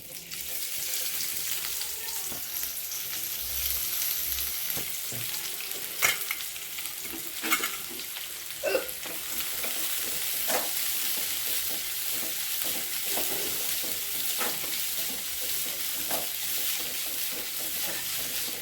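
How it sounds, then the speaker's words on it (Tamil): Steady sizzling of onions frying in hot oil, with occasional clinks and scrapes of stirring over the continuous crackle. "எண்ணெய் ஊற்றிடுச்சு நம்ம இப்போ இதுக்கு வெங்காயம் போட்டுக்கலாம்"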